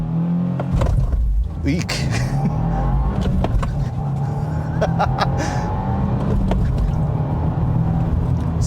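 A 2025 Subaru WRX tS turbo sedan in Sport Plus with traction control off launches hard off an aggressive clutch dump, engine roaring loud and close throughout with rising, shifting tones; a passenger briefly squeals.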